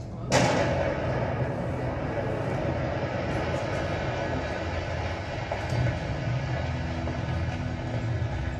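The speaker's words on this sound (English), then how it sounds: "An explosion rings out, a routine blast at the Hard-Tooth quarry." A sudden sharp blast from a limestone quarry opens the clip, followed by a long, heavy rumble that lingers steadily for several seconds at a distance.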